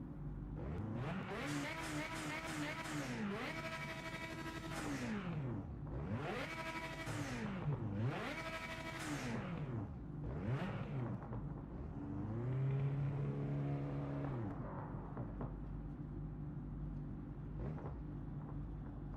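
A race car engine in Project Motor Racing revs hard through repeated gear changes, its pitch climbing and dropping in a steady cycle of loud, close accelerations, then easing off and settling to a lower drone.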